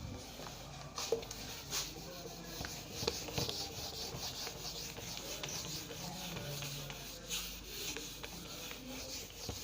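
Someone writes an example on a classroom board in a steady, soft, scratchy rubbing that continues for several seconds with faint taps, quiet and alone.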